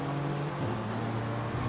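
An AI-driven race car's engine drones steadily close behind in the Forza Horizon 5 racing game, with a sustained tone that dips slightly in pitch partway through; no one talks.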